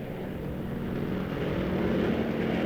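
Military aircraft roar past as a loud, continuous engine drone with a broad rushing noise, steady and sustained throughout.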